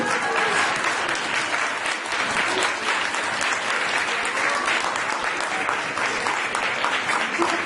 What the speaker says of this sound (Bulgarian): Доктор Ружа Игнатова се наслаждава на вашите аплодисменти.